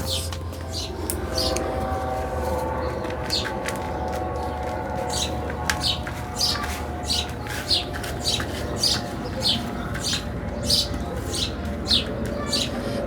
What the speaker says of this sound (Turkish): Kuşlar ne güzel ötüyor.